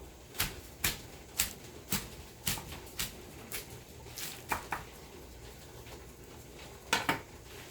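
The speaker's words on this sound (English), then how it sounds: "I'm just giving it a rough chop" Vegetables are roughly chopped with a knife on a cutting board, giving a dozen or so sharp knocks in an uneven rhythm, some in quick pairs, close and fairly clear over a quiet kitchen background.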